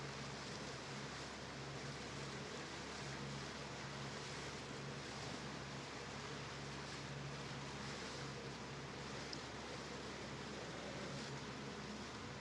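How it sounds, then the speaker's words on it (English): A steady drone of a running boat engine on the Mississippi River mixed with wind and water rush, constant and unbroken throughout, with no voices. "hopefully the engine noise isn't too loud"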